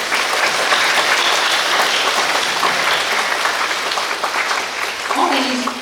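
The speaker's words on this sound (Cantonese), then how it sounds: "俾大家熱烈嘅掌聲" Audience at a school English award ceremony at Pui To Middle School applauds at length, a full, even wash of clapping that thins slightly near the end as a voice begins.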